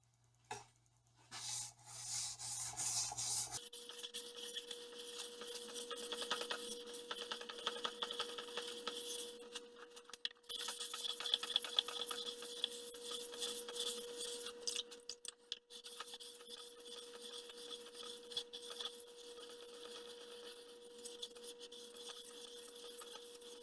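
A German Othello chef's knife scrapes across a whetstone in a long run of rhythmic gritty rasping strokes, close and steady, with a brief pause partway through.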